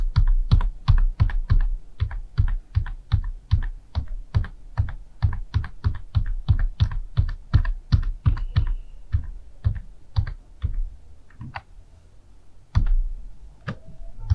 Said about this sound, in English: Press Shift plus on keyboard.